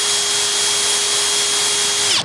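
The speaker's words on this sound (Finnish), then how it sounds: "tosta vaan porataan reikiä vähän isommaksi" A power drill bores holes larger in a part for a Yamaha DT 50X moped, a loud, steady high whine held close for about two seconds before spinning down at the end.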